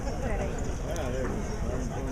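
A racehorse jogs past on the track during morning workouts before the Kentucky Derby, hooves clip-clopping steadily close by beneath continuous crowd and background noise, with people talking throughout.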